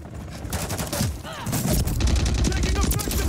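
Rapid bursts of automatic gunfire and fusillades from a modern military shooter played through GeForce Now on a Legion Go, loud and continuous with overlapping shots and game voice callouts.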